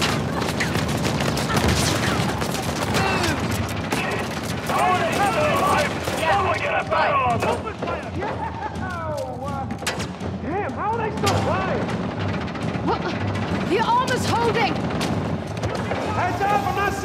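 Gunfire in Uncharted: The Lost Legacy, rapid volleys of sharp shots and bursts packed densely throughout, loud and close, with a voice talking over the shooting in places.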